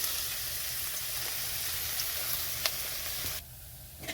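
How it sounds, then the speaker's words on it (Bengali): Garlic sizzles in hot mustard oil in a wok, a dense continuous frying hiss close by that drops off sharply near the end, with a couple of faint clinks. "কড়াইতে সর্ষের তেল দিয়েছি, তেলটা গরম হয়ে গেছে। এখানে দিয়ে দিচ্ছি রসুন।"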